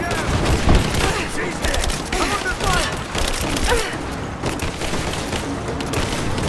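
Bursts of gunfire fill a combat scene in Rise of the Tomb Raider, scattered shots and volleys over constant battle noise, with someone talking over the shooting.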